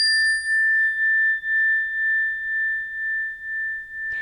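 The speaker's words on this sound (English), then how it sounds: "very similar to that is an actual cymbal or a nice little chime" A single bright chime from a small, compact chime rings out clearly and sustains as one long, pure tone in near silence, fading only slightly before cutting off.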